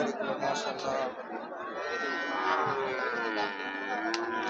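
A Sahiwal bull lowing in drawn-out moos, mid-distance, at a cattle market with people chattering around it.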